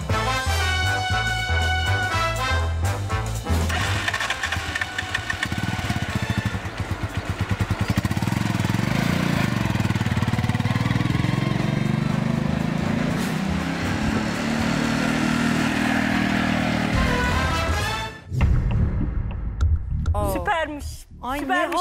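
A motorcycle engine hums and revs during a ride, a steady mid-range drone running throughout, with people talking over it and music at the start.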